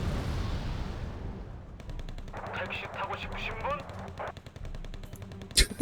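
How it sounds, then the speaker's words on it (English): A small machine gun firing in the war strategy game Wargame, rapid rattling bursts at moderate distance under game ambience and other battle noise, with a sharp burst at the end. "Tiny little machine gun."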